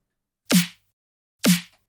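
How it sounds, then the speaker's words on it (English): Two cheesy, future bass-style layered snare hits from a progressive house drop ring out alone, each sharp crack followed by a short bright tail, spaced about a second apart. "the second half of the drop, these snares come in"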